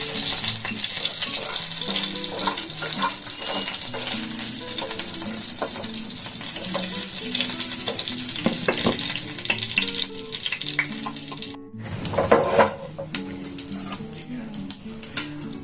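Bay leaves and a dried red chili sizzle in hot oil for chili soybean, a bright steady crackle with stirring clatter throughout and a brief pause before the frying picks up again, while someone talks over it.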